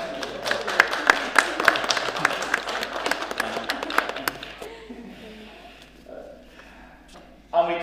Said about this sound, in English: And a round of applause would be appropriate.